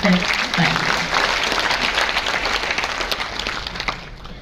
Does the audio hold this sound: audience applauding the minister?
yes